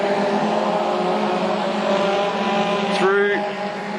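Junior sedans race through a speedway turn, engines droning in a sustained, fluctuating roar, with one car's higher-pitched whine sweeping past near the end over a race commentator's voice.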